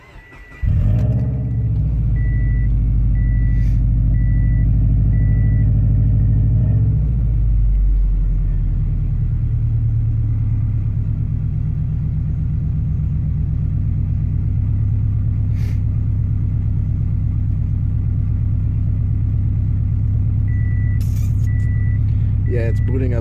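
A Subaru car engine cranks and starts, then settles into a strong, steady low rumble heard from inside the car, with faint electronic chimes from the dashboard sounding at the start and near the end.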